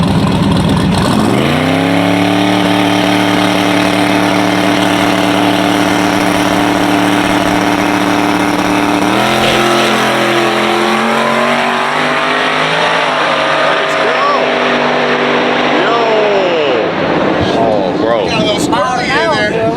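Twin turbo LS-swapped Dodge Charger launches on a drag strip, engine roaring loud and rising through gear changes before backing off near the end, with a voice talking over it.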